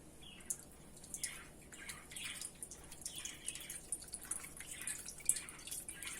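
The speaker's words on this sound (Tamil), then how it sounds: "அது இப்படி அமுத்திட்டீங்கன்னா அதில் இருக்கிற ஜூஸ் எல்லாம் விழுந்துருங்க" Ginger and orange juice, freshly blended, dripping through a filter as the pulp is pressed, a run of soft irregular drips and trickles, close but quiet.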